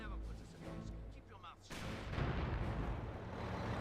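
A mortar shell or landmine explodes in the Company of Heroes 2 strategy game, a sudden loud boom that rolls into sustained battle rumble and crackling gunfire, with a commentator talking beneath it.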